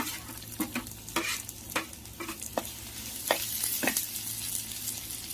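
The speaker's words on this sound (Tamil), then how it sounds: "காய் பட்டாணி, எல்லாம் சேர்த்து வதக்கிக்கணும்." Tomato, carrot, beans and peas being sautéed in a clay pot, with a soft steady sizzle and a few sharp clicks and scrapes from stirring, quiet and close.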